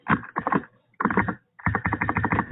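Computer keyboard typing in three bursts of rapid clicking keystrokes, separated by short pauses and recorded close, with no talking.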